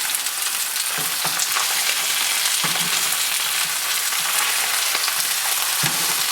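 Branzino fillets brown in a hot frying pan with a loud, continuous sizzle and spatter, and a few soft clunks of the pan or utensil break through.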